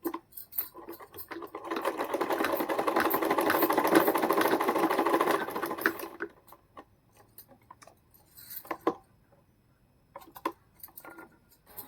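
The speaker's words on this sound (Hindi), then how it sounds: "लो जी मेरी मशीन भी हो गई ठीक। देखना अब कितने टाइम में सिलती हूँ मैं।" A home sewing machine stitching in one continuous whirring run of about five seconds, then stopping, followed by scattered clicks and handling knocks.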